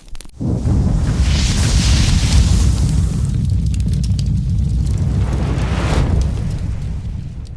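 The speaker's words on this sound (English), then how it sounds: "Now, light the fire." A cooking fire is lit for making jerk beef and biryani outdoors, with a sudden loud whoosh of flame igniting, followed by a steady roaring, crackling burn that stays strong throughout.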